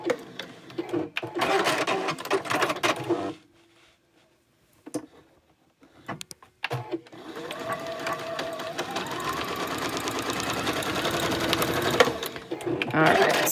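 A sewing machine chain stitches quilting lines on a bag, running in loud bursts with short pauses and a long steady stretch, while a person talks between and over the runs.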